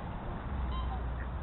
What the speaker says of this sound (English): Those are all black swans.